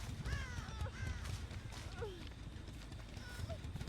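Crows cawing in the video game Dead by Daylight, several rising, raspy calls scattered across the stretch over a dense, low rumbling game soundscape, with someone talking throughout.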